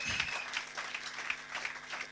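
A church congregation claps together, a steady, fairly soft patter of many hands sounding a little distant, with no voices over it.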